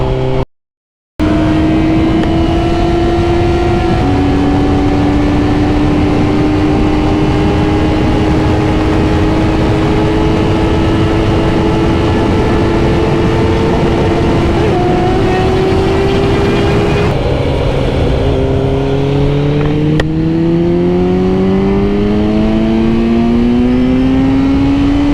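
A motorcycle engine runs steadily and loudly close by, holding a constant drone with slight pitch shifts and one clear drop in revs near the end, with no talk over it.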